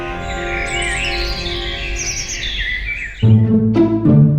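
A bird in a children's toy cartoon chirps and tweets in a bright, busy flutter for about three seconds, then gives way to a louder musical tone.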